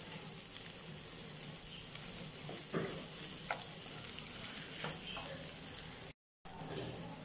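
Egg frying in a pan, cooked for an egg Maggi noodle dish: a steady close sizzle runs throughout with faint stirring scrapes and a brief dropout near the end.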